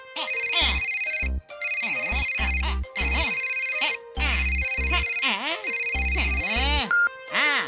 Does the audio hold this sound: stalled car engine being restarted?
no